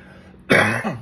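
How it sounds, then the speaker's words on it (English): A single sharp cough bursts out close and loud after a quiet moment, followed by a short raspy tail. "pardon me for coughing"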